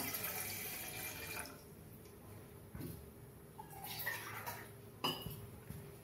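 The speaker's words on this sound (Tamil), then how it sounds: "1 கப்பு தண்ணி சேர்த்துக்கிறேன்." Water pours into a pot on the stove for milk payasam with sago and vermicelli, a soft, steady splashing close by, with faint clinks of cookware and no talking.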